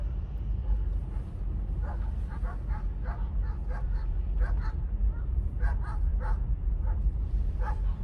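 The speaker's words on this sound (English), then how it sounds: "Dogs are barking loud." Dogs barking loudly inside or outside a house, a run of repeated sharp barks and yips in uneven bursts over a heavy low rumble of background noise.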